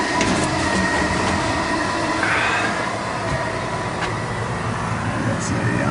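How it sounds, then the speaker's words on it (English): A furnace draft inducer motor runs on a malfunctioning HVAC unit, giving a loud, steady whirring roar that holds constant throughout with no pauses. "Draft motor's running."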